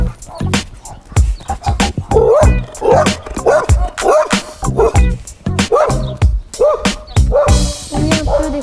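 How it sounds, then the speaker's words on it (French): A dog barks repeatedly in sharp, loud bursts, close by, with a few yips and whimpers between barks. "il y a un chien qui n'arrête pas d'aboyer."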